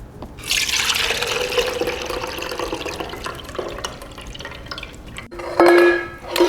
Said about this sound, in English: It's almost full, so of course we're gonna get a nice juice pour.